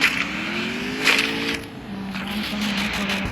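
Car engine in the battle royale game Free Fire: a motor revs up with climbing pitch, then settles into a steady drone. It sounds close and moderately loud, with no talking.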